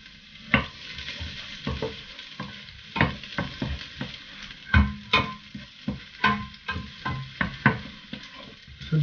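Garlic sizzling in a hot pan while being stirred, close up, with a steady frying hiss broken by repeated sharp scraping strokes of a spatula at an irregular rhythm.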